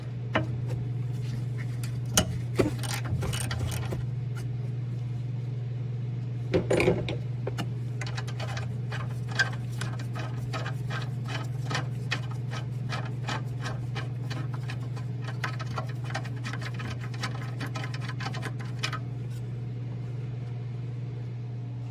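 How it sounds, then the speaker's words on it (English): A 12mm bolt on the throttle body bracket of a 2016-2022 Lexus RX350 is worked loose, giving a long run of small ratcheting clicks over a steady low hum. "So the bolt we gotta undo is located right there, 12mm head."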